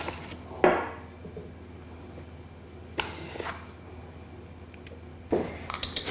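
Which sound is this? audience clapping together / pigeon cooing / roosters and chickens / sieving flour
sieving flour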